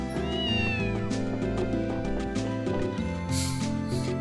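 A cat meows in the video game Ys Eternal Story, a short rising-and-falling call heard once near the start over steady, busy game music.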